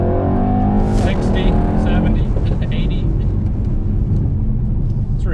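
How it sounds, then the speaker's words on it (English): A 2019 Mercedes-AMG E63 S Wagon in Sport Plus with manual shifting accelerates hard from a standstill, its engine roaring loudly and rising through the gears from inside the cabin, with a person speaking over it. "Let's gun it, try to do a 0 to 60."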